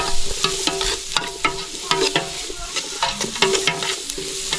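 Ingredients are dry-roasted in a pan while being stirred steadily, with rhythmic scraping and rattling strokes over a continuous sizzle, close and fairly loud throughout.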